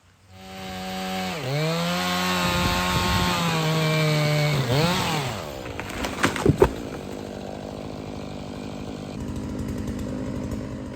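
A chainsaw cuts through an urban tree trunk into firewood pieces, its engine revving loud and close with a rising, falling pitch, then dropping to a rougher idle with a few sharp knocks.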